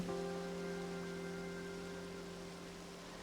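A steady, soft rushing hiss of a waterfall in the Pokopia video game flows continuously under sustained musical notes, even and unbroken throughout.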